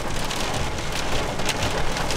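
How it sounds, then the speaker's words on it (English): Pea-size hail pelting a roof during a severe thunderstorm with gusty winds, a dense, steady hiss of tiny impacts filling the whole stretch at fairly loud, even level with no voices. "Hail, pea size, very tiny. I can hear it hitting the roof."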